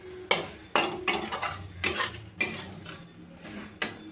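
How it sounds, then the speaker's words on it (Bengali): A spatula clanks and scrapes in a pan as prawns are stirred with potatoes and pointed gourd, sharp metallic strikes about every half second, with a faint sizzle underneath. "এবার আমি চিংড়ি মাছটা দিয়ে আবার ভালোভাবে নেড়ে চেড়ে একটু 2 মিনিটের জন্য ঢেকে দেবো।"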